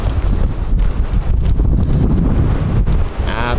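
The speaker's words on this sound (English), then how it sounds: "Absolutely ripping wind." Strong wind batters the microphone outdoors, a loud, continuous rumbling roar with gusty surges throughout the short stretch.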